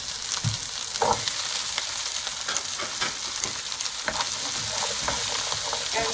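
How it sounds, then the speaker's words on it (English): Onions and mixed vegetables sautéing with turmeric in a pan for a healthy soup, a constant close sizzle broken by repeated scraping clicks of a utensil stirring, with no talk. "we're going to let it saute for a few more minutes so the vegetables get a little bit tender"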